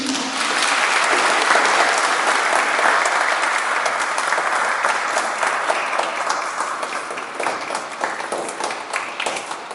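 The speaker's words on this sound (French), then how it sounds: "On les applaudit-tu?" A congregation at a Sunday family Mass applauds the altar servers, loud dense clapping that fills the church for several seconds and then gradually thins and softens toward the end.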